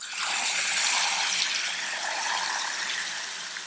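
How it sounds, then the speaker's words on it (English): Water gushes steadily from a tap into a bowl of sliced lotus root, a close, continuous rushing pour that eases slightly toward the end. "Now I'm going to fill it up with some water."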